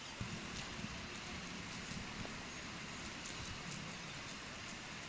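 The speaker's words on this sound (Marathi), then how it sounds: "सोलापूर शहरामधील अनेक भागामध्ये सकाळपासून पावसाच्या सरी बरसत आहेत" Morning rain showers fall across Solapur city, a steady, even hiss of rain at moderate distance with no pauses or voices.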